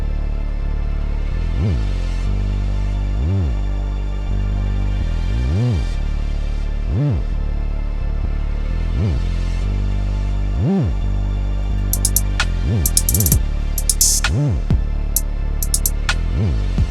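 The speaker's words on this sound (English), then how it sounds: "but when you turn on the tube saturation, it sounds like this." Drill-style 808 bass slides processed with tube saturation in Maschine, a series of deep gliding notes that swell and drop in a slow rhythm, with crisp hi-hat ticks entering near the end, no voices.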